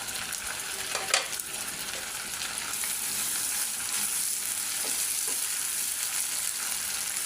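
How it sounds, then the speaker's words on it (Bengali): Bay leaves sizzle in hot oil in a pan as chicken curry begins, a steady close frying hiss with a single utensil clack early on. "তেজপাতা দিয়ে দিলাম"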